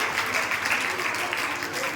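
Audience applause for UKG children at a school graduation ceremony in Mathura, a continuous even wash of clapping from a hall crowd that stays level for two seconds.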